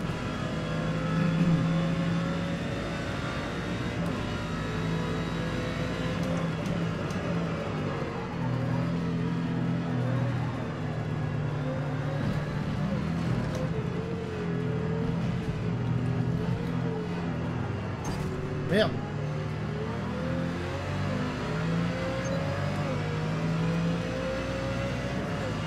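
A race car engine in Forza Motorsport, droning and revving steadily through a long stretch, with pitch rising and falling through gear changes and a brief sharp spike partway through, under faint talk.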